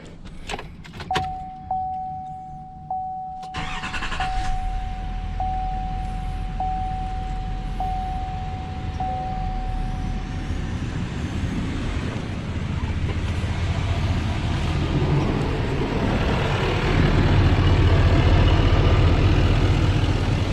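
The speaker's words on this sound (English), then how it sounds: "Now let's start up the truck to see if we could hear a difference." A 2019 Chevy Silverado 2500HD pickup engine, fitted with an intake horn and rerouted PCV, cranks and turns over after a brief chime and small clicks, then settles into a steady, loud idle that rumbles on.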